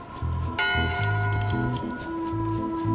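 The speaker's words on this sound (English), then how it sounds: "One bell. Voting hour." Single bell toll in the adventure game Return to Monkey Island, a ringing metallic strike over a plodding musical background, fading slowly.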